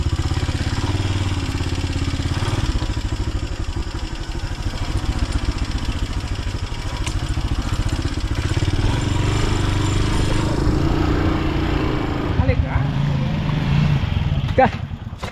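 Motorcycle engine running at a steady idle with a low, throbbing rumble and some clatter, close by and continuous, while people talk over it.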